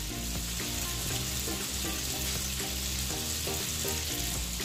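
Meat sears in a hot pan with a dense, constant crackling sizzle that stays loud and close for the whole stretch, with no talking.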